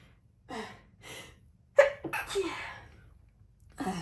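Several allergy sneezes, from pollen, burst out one after another, close and fairly loud, with sharp breaths and a gasp between them and no talking.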